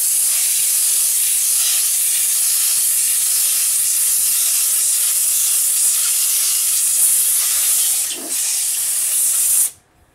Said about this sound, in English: you also want to blow any contaminants out of that filter on the top